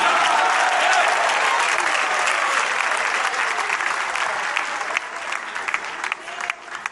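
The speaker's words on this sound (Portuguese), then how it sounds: "ofereça a Deus o melhor aplausos" A church congregation applauds loudly, a dense wash of clapping that gradually thins and fades toward the end.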